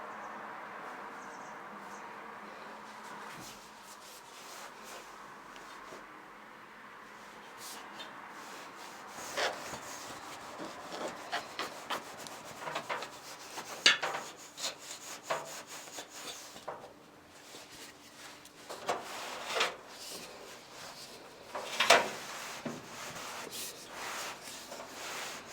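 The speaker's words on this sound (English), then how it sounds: "So I'm just using the duster just to ensure that" A duster wipes along household radiators in uneven rubbing and brushing swipes, with occasional light knocks and scrapes against the metal, close and fairly faint.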